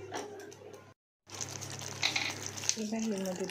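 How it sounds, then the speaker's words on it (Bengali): A paste of poppy seed, cashew and yogurt sautéed over medium heat gives a steady soft sizzle and stirring close by, briefly cut off, then continuing under a faint voice. "পুরোটাই আমি মিডিয়াম আঁচে রেখেই কষাচ্ছি যাতে জিনিসটা পুড়ে না যায়"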